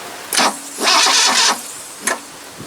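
A 1982 Ford Capri MKIII engine cranked over with the ignition coil unplugged, giving two short loud bursts of starter whirring with a pause between them. A brief final blip follows, and nobody talks.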